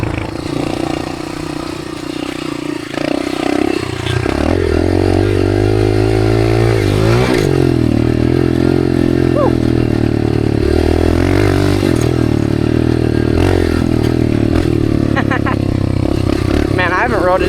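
Dirt bike engine running loud and steady while riding through open desert, revving in sustained rising and falling pulls close to the mic, with a brief clattering and wind-buffeted start before the motor settles into continuous throttle.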